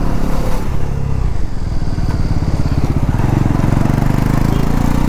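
A Bajaj Pulsar NS400Z motorcycle being ridden, its engine droning steadily and loudly close by with rhythmic pulsing and wind rush, holding a constant throttle throughout.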